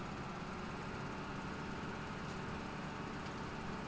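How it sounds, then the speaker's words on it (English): Harvester motor in Farm Sim 17 revving while the auger unloads grain, a steady, continuous engine drone with a dense low rumble and broad hiss, holding constant throughout with no talk. "I like how it revs up the motor when you're augering."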